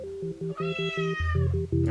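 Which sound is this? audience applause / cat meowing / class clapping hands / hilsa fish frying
cat meowing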